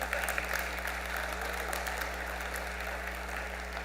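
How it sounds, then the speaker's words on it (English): Applause from an audience, a dense even patter of clapping that holds steady throughout beneath a low constant hum. "I was hoping someone will clap at this point."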